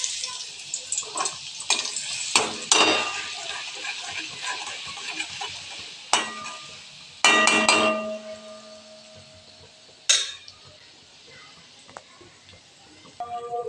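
Green chili and garlic paste hits hot oil in a wok and sizzles in sharp, crackling bursts that fade between spurts, with the occasional scrape of stirring.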